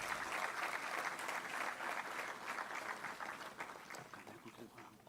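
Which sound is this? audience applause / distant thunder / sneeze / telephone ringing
audience applause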